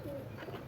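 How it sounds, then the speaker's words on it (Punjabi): Pigeons cooing in a loft of Sialkoti and pearl-marked fancy pigeons, a soft, low, brief coo murmuring at close range. "ਮੋਤੀਆਂ ਵਾਲਾ ਕਬੂਤਰ ਹੈ।"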